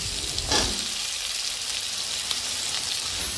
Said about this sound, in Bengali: এই পর্যায়ে আমরা দিয়ে দেব কেটে রাখা কচু।